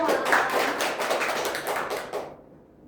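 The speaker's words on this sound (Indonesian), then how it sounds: "Oke, aplaus untuk kita semua" A group of seminar attendees claps together in a dense burst of overlapping hand claps, moderately close, lasting about two seconds before cutting off sharply into near silence.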